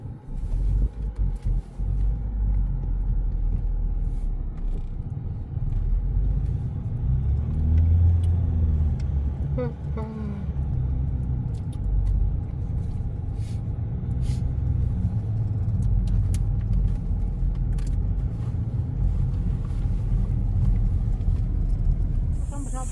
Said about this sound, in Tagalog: Naka-owner at naka-tricycle. May naka-motor pa.